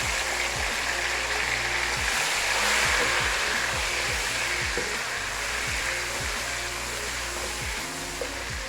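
Three large, roughly chopped tomatoes go into very hot oil for chicken biryani. A steady, broad frying hiss carries on throughout, with a low rhythmic clatter underneath and no voices.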